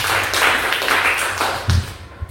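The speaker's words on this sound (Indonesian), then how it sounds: "Tepuk tangan buat kita" A group of students claps together in a classroom, a dense, sustained patter of hands lasting about two seconds, then a couple of separate louder claps as it ends.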